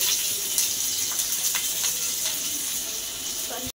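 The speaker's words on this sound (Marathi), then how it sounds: "आपण मिरच्या भाजून घेऊ।" Green chillies roast in a hot pan for a thecha, a steady broadband sizzle with faint crackles that holds at an even level throughout.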